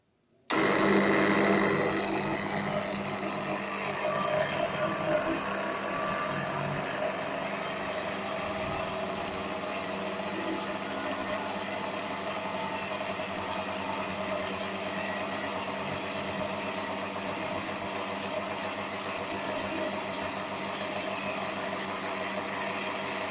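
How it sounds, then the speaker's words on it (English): A blower on a forced convection heat transfer lab apparatus starts abruptly, then runs as a steady, fairly quiet motor hum with airy whirring that holds level for over twenty seconds, with no talking. "Let us see, we will start the blower now."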